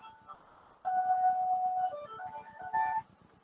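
A phone rings during a renal physiology lecture in a classroom, its electronic melody of steady sustained tones starting partway in and carrying on for about two seconds, moderately loud over a faint murmur of room noise.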